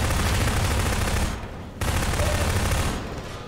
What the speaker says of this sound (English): Shoot it right fucking now